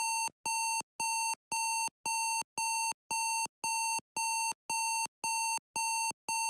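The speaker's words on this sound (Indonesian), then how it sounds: "Arduino berhasil mengaktifkan buzzer dan LED merah" An Arduino smoke detector buzzer for a vape-friendly cafe sounds an alarm: a steady series of about thirteen identical sharp electronic beeps, evenly spaced and clear, with nothing else audible.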